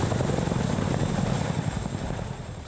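A giant Mil Mi-26 heavy-lift helicopter in flight, its rotor producing a steady, loud low thumping drone with a faint high whine above, no voices.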